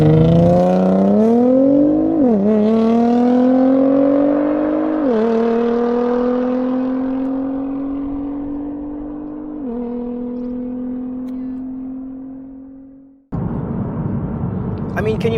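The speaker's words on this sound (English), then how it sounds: "The GTR launch." A modified Nissan GTR making roughly 700 horsepower launches hard, its engine note climbing steadily through several gear shifts, loud and close. It cuts off abruptly, then a burst of broadband noise follows.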